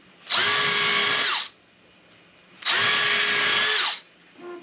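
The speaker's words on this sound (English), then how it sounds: "Need to do some more drilling." Two long bursts of a power drill boring through a seat during a mod, each lasting over a second with a steady high whine, separated by a pause, with a brief third start at the end.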